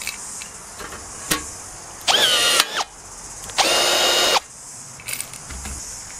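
A Milwaukee cordless 1/4 inch rivet gun pulls a rivet: two loud whirring motor bursts, each about a second long with a rising whine, between small clicks and handling noises.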